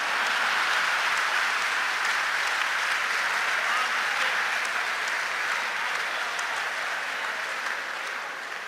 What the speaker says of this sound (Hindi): इस बात पे भाजपा वाले भी ताली बजा रहे हैं।